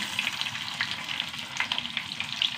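Fresh sardines coated with salt, chilli and turmeric fry in coconut oil with curry leaves, giving a close, steady crackling sizzle with small pops throughout and no speech.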